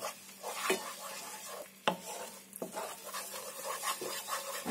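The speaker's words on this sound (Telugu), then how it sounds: "ఇప్పుడు ఈ మూడు సాసెస్ అయ్యాక కొద్దిగంత టమాటో కెచప్ ఇప్పుడు ఇది కూడా అంతటా కలిసేలా కలుపుకోవాలి" Spoon stirring tomato ketchup into a sauce mixture for veg manchurian, with soft scraping strokes and a few sharper clinks against the pan, close and steady with no talk.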